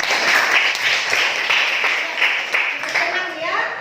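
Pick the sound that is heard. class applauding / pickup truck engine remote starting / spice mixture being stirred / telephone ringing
class applauding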